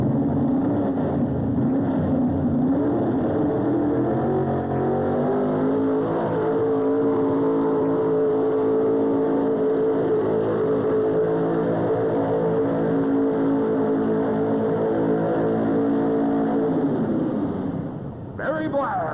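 Engine of a 1981 Chevrolet truck at a tractor pull, held at a loud, sustained high-RPM roar with steady harmonic drone that fades abruptly at the end, with an announcer talking over it.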